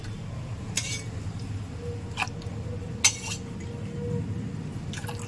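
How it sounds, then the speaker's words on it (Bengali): Hot water is poured into a homemade soap mixture in a vessel, a steady liquid rush under a few light clinks of the container and utensils, fairly close and without talking. "এর মধ্যে গরম জল দেব"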